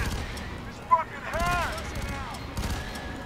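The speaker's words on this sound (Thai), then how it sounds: "โอ้ยระเบิดละ" A grenade goes off in the shooter game FEAR 3, a short loud burst near the one-second mark amid a busy backdrop of game gunfire and effects, with people talking over it.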